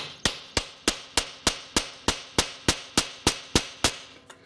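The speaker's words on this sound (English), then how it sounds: "put an indent or a dimple in the metal so your drill bit won't skip" Sharp metallic strikes ring out in a steady rhythm, about fifteen evenly spaced hammer blows punching a dimple into metal before drilling, close and loud with no talking.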